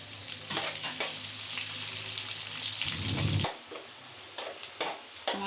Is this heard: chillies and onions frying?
yes